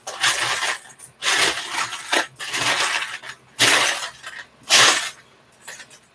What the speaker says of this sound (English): I apologize if the noise of rattling bricks bothers you